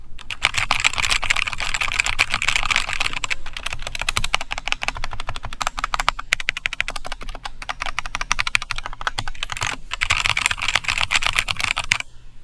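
Rapid, continuous typing on a Zhulang K68 mechanical keyboard with red switches, dense clacky keystrokes close up with brief pauses, no voices.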